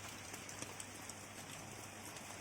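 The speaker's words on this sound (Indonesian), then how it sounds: "Oh hujan bray." Steady rain falling at a home in Indonesia, a continuous even hiss of drops on surfaces with faint scattered patters, close by and alone with no talk.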